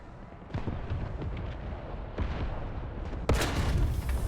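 Heavy booming tank cannon shots in the video game War Thunder, from a Leopard 2A4, go off one after another, each a loud blast with a rumbling tail, set against steady low engine noise.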